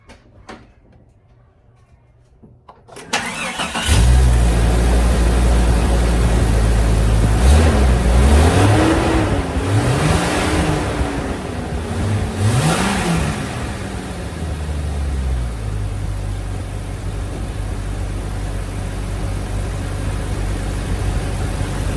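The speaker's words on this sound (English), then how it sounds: "I'm gonna start it one more time" Jeep Cherokee XJ with a newly installed throttle body spacer cranks and fires after a quiet moment, then revs up and down a few times before settling into a steady, loud idle close by.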